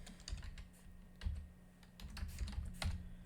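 Keys on a computer keyboard are typed in a short run of quick, light clicks while a command is entered at a Linux terminal on an Ubuntu server, close and fairly quiet with no voices.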